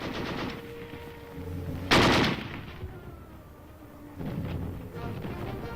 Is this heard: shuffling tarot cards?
no